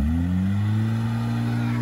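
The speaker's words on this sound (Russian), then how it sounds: "Да он вроде газует." An off-road 4x4 engine revs steadily at a Caucasus off-road base, a loud close drone that rises slightly in pitch and holds, with no talking.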